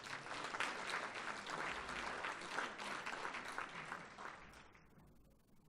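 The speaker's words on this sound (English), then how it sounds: "Please give her another round of applause" An audience at a University of Pretoria academic achievers' awards ceremony applauds in a full, even wash of clapping that holds steady for several seconds, then fades away.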